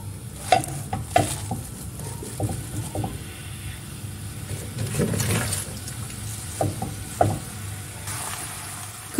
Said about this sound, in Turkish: Tavama hemen şöyle 2-3 yemek kaşığı kadar sıvı yağ alıyorum ve ıspanakları tavamın içerisine ilave ediyorum.